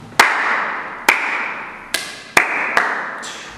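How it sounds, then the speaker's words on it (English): Sharp hand claps close by, about five separated single claps at uneven intervals, each with a short ringing tail, with no talk in between. "clap for the camera"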